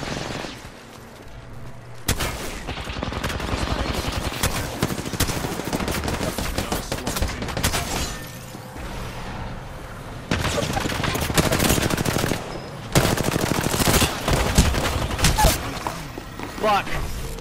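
Sustained automatic gunfire from Apex Legends, dense rapid bursts filling most of the stretch with short lulls between volleys, loud and close, with team voices calling out over the shooting.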